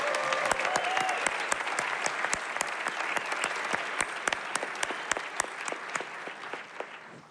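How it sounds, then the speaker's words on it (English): Audience applause at a library's 25th anniversary celebration evening fills the room with dense, steady clapping that holds for about seven seconds and fades slightly near the end. "Let's give Chris another round of applause"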